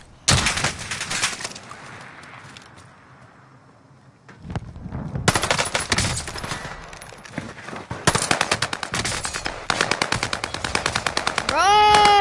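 Machine gun fire in Call of Duty Warzone crackles in rapid repeated bursts, loud and close, with a quieter stretch early on, then dense automatic fire and a rising electronic tone at the end.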